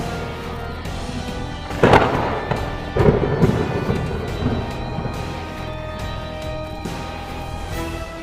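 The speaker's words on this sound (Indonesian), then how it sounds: "gumpalan awan hitam mengeluarkan petir yang menghancurkan seluruh pulau tak bersisa" Lightning from black storm clouds strikes and destroys the island of Lulusia in the One Piece anime. Two heavy cracking blasts about a second apart are followed by rolling rumble over a low sustained background.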